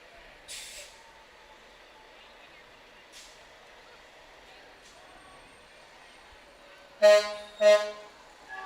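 Construction trucks rolling in a Christmas parade, with a faint air-brake hiss early on and then two loud, close horn blasts in quick succession over a quiet background.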